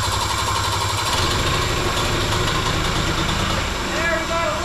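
A 1980s Harley Davidson golf cart engine runs after its choke is pulled, giving a loud, steady, close-up chugging idle that continues unbroken throughout.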